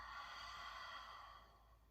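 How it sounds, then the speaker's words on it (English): A single soft, breathy Ujjayi-style exhale during a yoga session flows out close and quiet, then gradually fades away. "Audible Ujjayi-like exhale out."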